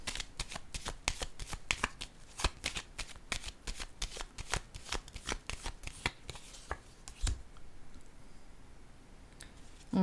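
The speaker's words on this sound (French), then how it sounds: "Je vais piger une autre carte." Playing cards handled from a deck during a French-language card reading, with a rapid run of crisp flicks and snaps for several seconds, then a quieter stretch with a few isolated clicks near the end.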